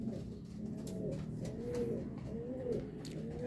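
Hen pigeons cooing in a loft, soft repeated rolling coos several times in succession, fairly close, over a low background hum.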